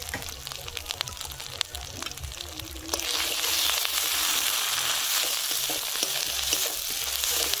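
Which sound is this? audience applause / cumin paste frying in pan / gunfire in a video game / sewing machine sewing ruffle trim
cumin paste frying in pan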